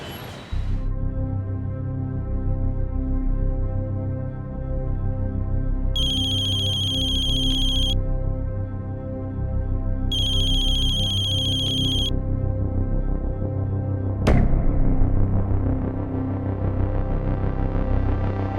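A phone ringtone sounds in two bursts of about two seconds each, over a steady hum and background music, then a sharp click near the end.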